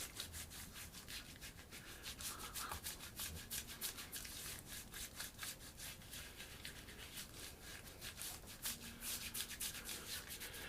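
Shaving soap cube rubbed onto the face for a wet shave, a steady close scratchy rubbing with rapid repeated strokes throughout, fairly quiet and alone.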